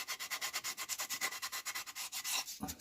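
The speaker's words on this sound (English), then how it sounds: "and with a bit of sandpaper" Sandpaper rubbed by hand over scroll-sawn wood to clear fuzzy edges, a quick steady back-and-forth scratching of about eight strokes per second, close and fairly quiet, ending with a soft knock.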